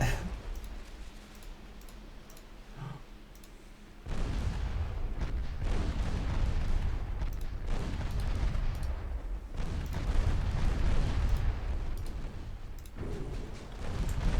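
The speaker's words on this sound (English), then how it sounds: "there's certainly torpedo hits coming in" Torpedo hits on warships in a naval battle game land as heavy, rumbling explosions over a constant low roar, building from a quieter start into a sustained, booming barrage.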